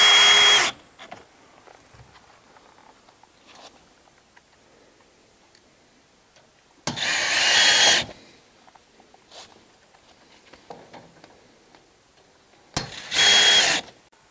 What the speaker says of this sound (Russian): начинаем прикручивать стартовую планку к обрешетке саморезами с пресс-шайбой длиной 19 мм